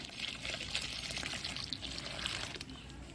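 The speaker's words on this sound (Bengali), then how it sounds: "গরুর দুধ দিয়ে দিচ্ছি" Cow's milk poured into a pot of boiling rice pudding, a steady close liquid splash and trickle running the whole time without pause.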